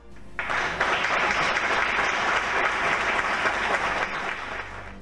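An audience claps for a recited poem, the applause starting abruptly and then holding as a dense, even patter of many hands before tapering off slightly at the end.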